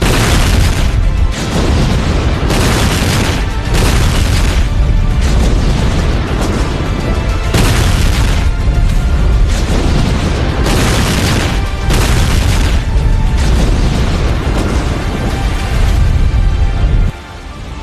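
Explosions during the Russian attack on Mariupol, with several buildings struck at once: loud, continuous booming and rumbling blasts that overlap without letup for the whole stretch, dropping away only at the very end.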